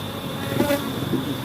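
Honey bees drone steadily around a small hive in Jamaica, a close, continuous buzz with no voices.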